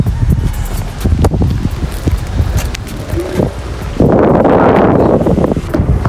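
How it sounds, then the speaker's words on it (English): Strong gusting windstorm roaring across the microphone while riding an electric scooter, a continuous loud rush that swells louder partway through, with no talking. "it's very windy"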